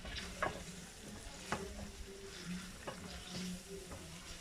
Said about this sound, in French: Il faut bien faire revenir tout ça.